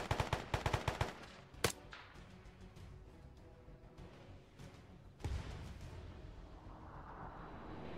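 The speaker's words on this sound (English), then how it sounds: "that's them engaging the town with small arms" Small arms gunfire in Arma 3 crackles in a rapid burst of shots during the first second, followed by a sharp single report and a later heavy thump, then a low ambient rumble with no talk.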